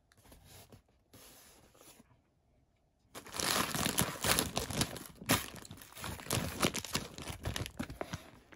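A packaged Japanese lucky bag from Osaka Ohsho being unwrapped, with a few soft rustles first, then sustained loud plastic crinkling and crunching close to the microphone for about five seconds.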